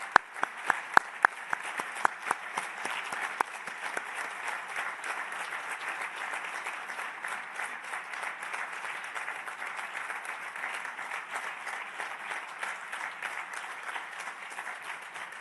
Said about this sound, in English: Vi chiedo di tutti insieme fare un grande applauso, un tonnerre d'applaudissements per Filippo Grandi.